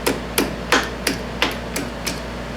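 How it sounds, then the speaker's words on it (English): A hammer whacks a metal piece in a machine shop, giving about eight sharp, loud strikes at a steady, fairly quick pace, each ringing briefly over a low background hum. "I'm going to whack it a few times here"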